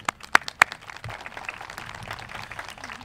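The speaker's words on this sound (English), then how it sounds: "Round of applause for them." A few sharp, separate claps open, followed by sparse, thin applause that stays light and scattered at a high school National Honor Society induction ceremony.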